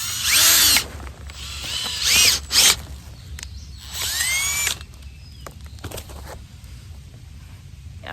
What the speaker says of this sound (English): And then I'm gonna auger this next one